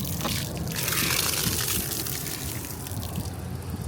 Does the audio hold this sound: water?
yes